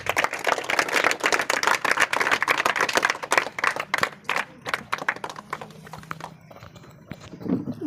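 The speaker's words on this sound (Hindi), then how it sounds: "तो इंसा के लिए भी ताली बजा दीजिए।" Children clap for a girl about to give a Teachers' Day speech at a village coaching class, a burst of dense, uneven hand-claps that thins out and fades toward the end.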